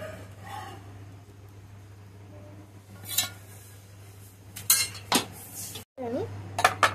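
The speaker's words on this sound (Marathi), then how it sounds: "आता आपण एका प्लेटमध्ये काढून घेऊया." Toasted, crisp sandwich bread set down onto a plate in a home kitchen, heard as a few light clinks and clatters of dishes and cutlery over a steady low hum, ending with sharper knocks.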